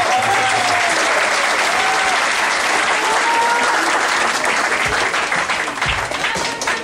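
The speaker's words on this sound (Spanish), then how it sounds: "les pido un gran aplauso" A crowd at an 80s-themed dinner dance applauds Juanjo with loud, continuous clapping and some cheering that stays full throughout, a voice faintly audible underneath.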